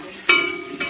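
Tomato and potato frying in a pan, with a steady soft sizzle and two brief bursts of stirring or scraping close up, no talk.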